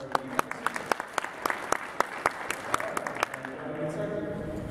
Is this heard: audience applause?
yes